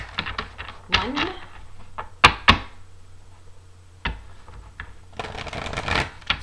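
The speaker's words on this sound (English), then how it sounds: "So, I've already pre-shuffled my decks, but I'm going to shuffle them a few more times and then cut them." Tarot decks being shuffled by hand, a run of quick riffling card flutters and soft slaps, close and fairly loud, with sharp taps midway and a longer shuffle burst at the end.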